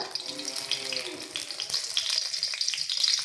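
Bay leaf and whole spices frying in hot mustard oil in a wok, a steady bright crackling sizzle with scattered pops, close and moderately loud, with no talking.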